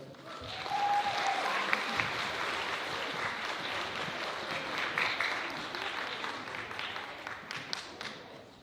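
A school audience applauds a fourth-grade class after their playback performance, a broad, steady crowd of clapping that holds loud for several seconds before slowly thinning out.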